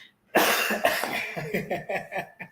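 A person coughs in a quick series of harsh bursts, close and fairly loud, with short gaps between them.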